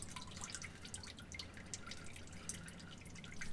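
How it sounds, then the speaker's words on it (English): Hot engine oil dripping from the drain of a 2017 Ram 1500 with a 5.7L Hemi, a faint, quiet patter of fine drips over a low background hum, with no talking. "It is starting to drip."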